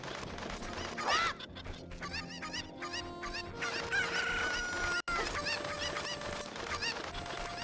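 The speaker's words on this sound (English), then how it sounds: "get this cuckoo." Cuckoo chicken from The Legend of Zelda: Ocarina of Time clucks and squawks repeatedly in short bursts over busy background game music, with no voices present.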